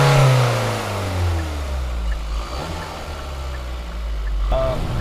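Engine of a 2021 Kia K5 GT-Line AWD automatic sedan heard from inside the cabin, a steady mid-pitched drone rising and falling in pitch as it pulls in third gear, loud and continuous.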